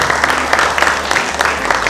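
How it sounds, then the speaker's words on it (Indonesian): Audience at a Jakarta book launch applauds the author, a dense, steady patter of many hands clapping together, loud and close throughout the short burst. "hadirin sekalian kita beri tepuk tangan juga untuk Iin Fadilah"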